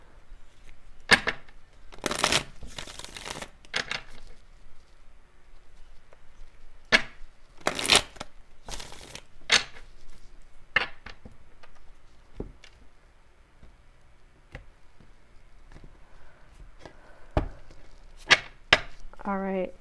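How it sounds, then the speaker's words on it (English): Tarot cards being shuffled and handled: sharp, brief snaps and riffles come in scattered bursts at close range, with quiet stretches between them. "Let's get some clarity cards here."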